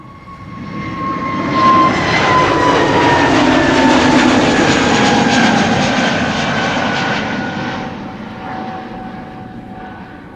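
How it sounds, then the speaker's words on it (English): An EasyJet Airbus A320neo departs from Schiphol's Polderbaan runway in rain showers, its jet roar rising loudly, holding strong with falling engine whine tones, then fading into the distance, no talk over it. "This is EasyJet A320neo going to Glasgow."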